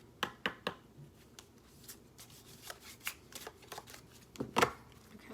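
Tarot or oracle cards being shuffled by hand for a love reading, with a series of soft, crisp riffling flutters and taps at close range, irregular and faint.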